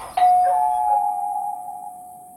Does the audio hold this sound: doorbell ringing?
yes